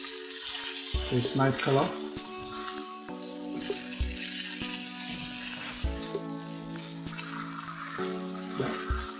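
Chicken pieces skin side down and spring onions frying in a pan make a constant low sizzle under a person talking, with faint background music throughout.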